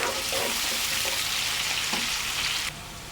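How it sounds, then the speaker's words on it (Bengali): Onions frying in a pan for a home-cooked Bengali meal, a dense steady sizzle close up with occasional stirring scrapes, cutting off sharply near the end to a quieter hiss. "পেঁয়াজটা আমি ভাজা ভাজা করব"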